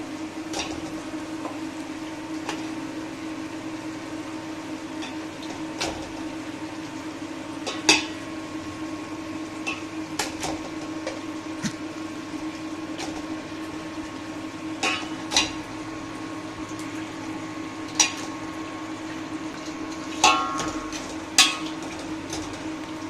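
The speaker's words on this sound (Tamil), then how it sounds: "கறியெல்லாம் சேர்த்து இதோடு நல்லா கிண்டி நல்லா வதக்கணும்" A spoon stirs chicken pieces sautéing with onion and tomato in a pot for biryani, giving occasional metallic scrapes and knocks against the pot over a steady background hum from the stove. No one speaks.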